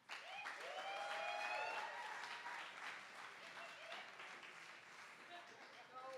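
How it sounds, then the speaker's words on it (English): A poetry-festival audience applauds a poet, with dense clapping and some cheering that swells in the first seconds and then continues steadily, fairly distant and low in level. "can I please get a round of applause for my first poet in this last round?"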